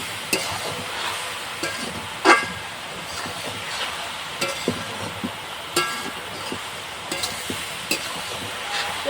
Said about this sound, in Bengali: কুলটা এদিকে নেড়ে দিতে হবে, তো কুলের গায়ে যে জলটা আছে জলটা শুকিয়ে যায়